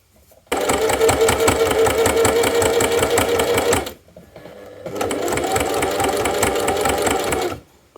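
A sewing machine stitches footer fleece fabric in two long close runs of rapid, even mechanical whirring, separated by a short pause, with the second run a little quieter.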